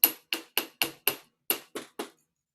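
Metal wire pin hammered on its edges to spread the surface, eight sharp close strikes in an uneven rhythm, each ringing briefly before the next, with no voices.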